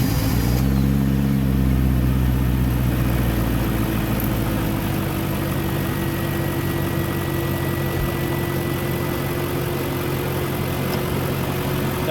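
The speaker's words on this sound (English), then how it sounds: "the car is running perfectly fine, no mass airflow sensor" A BMW E39 engine idles with its mass airflow sensor disconnected, a steady low hum with a constant tonal drone and a slightly uneven rumble underneath, heard close up and alone.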